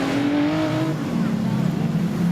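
Production sedan race car engines drone steadily at high revs during heats at Maryborough Speedway, a continuous whining roar that shifts pitch slightly as cars circle, with a voice faintly in the background.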